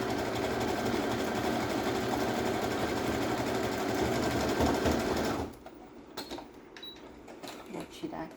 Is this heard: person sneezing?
no